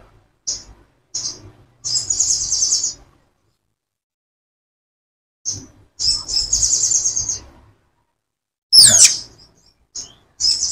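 A sogon ijoan bird gives bursts of high, rapid chirps and tweets, separated by silent gaps, with a sharper squeaky call near the end; close and clear, with no talk.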